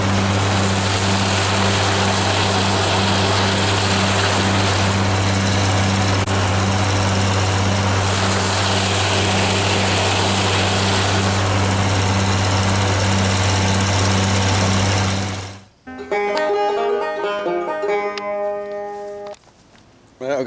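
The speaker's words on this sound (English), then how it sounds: "I think the tractor will start." A farm tractor engine runs loudly and steadily with a low droning hum for about fifteen seconds, then cuts off abruptly, leaving quieter sounds and a different mechanical rattle.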